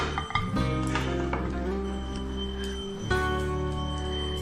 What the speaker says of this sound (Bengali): দেখুন এবার ঢাকনাটা খুলছি